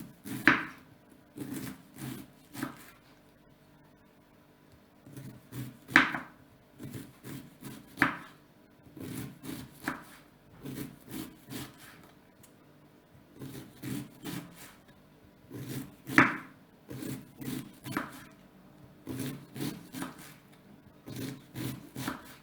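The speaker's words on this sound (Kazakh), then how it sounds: "Капустаның сыртқы қабығын аршып, жуып, жіңішкелеп турап аламыз" A knife finely shreds peeled, washed cabbage on a board in quick bursts of rhythmic, crisp chops, with short pauses between runs, close and fairly quiet.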